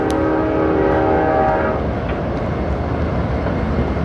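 A Union Pacific locomotive horn sounds steady and somewhat distant across a busy rail yard for over a second, then cuts off, leaving a constant low rumble of idling engines and rail noise.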